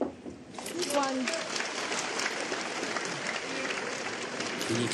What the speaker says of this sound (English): And you can hear the big cheer from his supporters.